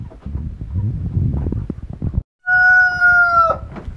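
A white Leghorn rooster gives one loud, close crow lasting about a second, after a stretch of rustling, shuffling noise and a brief silent gap.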